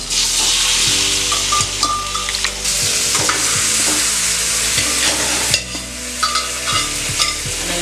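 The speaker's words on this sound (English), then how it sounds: "We are now going to fry the chicken pieces so that they get a nice rich golden brown color" Chicken pieces fry in butter in a hot frying pan for Punjabi chicken khurana, giving a steady, close, loud sizzle with occasional stirring scrapes and clinks against the pan. No one talks.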